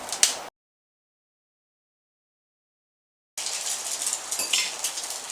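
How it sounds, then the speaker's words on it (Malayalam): Eggs frying and being scrambled in oil in a pan while making Indo-Chinese Hakka noodles: a short burst of sizzling, a stretch of silence, then a steady, bright crackling sizzle for the last two seconds. "ഓയിലേക്ക് തന്നെ നമ്മൾ മുട്ടയും വറുത്തെടുക്കാം"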